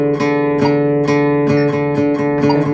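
An electric guitar plays a sustained, ringing riff with sharp picked attacks spaced in a steady rhythm, loud and up close with no talking.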